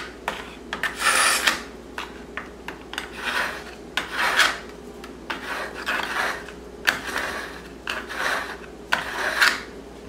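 A knife blade being sharpened with a file, heard as repeated close rasping strokes in an irregular rhythm with pauses between passes, with no speech.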